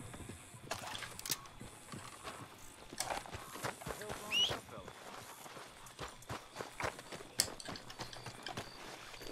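Horse hooves clip-clop in Red Dead Redemption II, a steady run of soft, close footfalls beneath ongoing talk and other game sounds.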